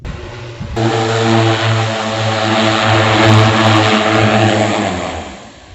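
A loud, steady multi-rotor agricultural spraying drone flying over a cassava field, humming with strong buzzing harmonics, holding close and constant for several seconds.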